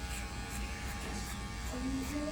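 Electric hair clipper set to a number 1 guard buzzing steadily during a barber's haircut, a close, continuous hum with a slight pitch shift near the end.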